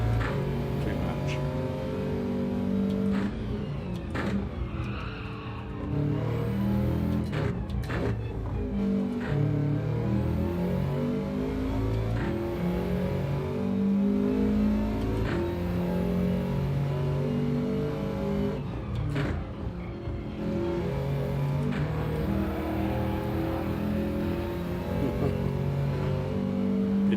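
Race car engine in a racing game on the Brands Hatch circuit, revving up through the gears in repeated rising pulls with short breaks at each shift, steady and close, with someone talking over it.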